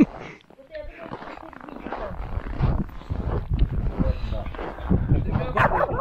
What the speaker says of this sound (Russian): Какая злая собака.